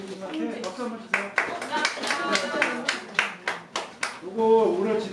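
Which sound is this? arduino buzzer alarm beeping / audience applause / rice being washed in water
audience applause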